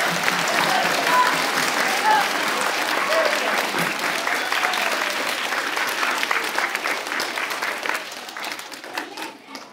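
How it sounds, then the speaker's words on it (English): An audience applauds piano player John Ridgway at an Earth Day celebration, a dense, steady round of clapping that holds for several seconds before thinning and fading toward the end. "our piano player, Mr. John Ridgway. Let's give him a nice clap."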